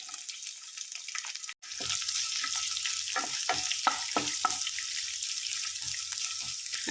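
Chopped ginger and garlic go into hot oil in a pan for a masala with chickpeas. A steady close sizzle is broken by a brief drop, then returns with light scraping stirs and a few soft clinks.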